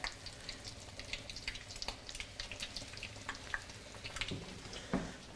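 Flour-dredged veal shanks fry in a mixture of oil and butter, giving off a soft, continuous crackle and sizzle with scattered pops and a few brief clinks, heard quietly and up close.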